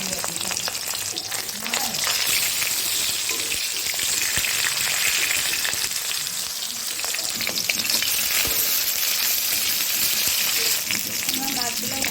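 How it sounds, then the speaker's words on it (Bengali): Fish pieces frying in hot oil in a home kitchen for a fish and vegetable curry, a loud, steady crackling sizzle with bursts of spattering that continues throughout with no talking. "এবার মাছগুলো ভেজে নেব।"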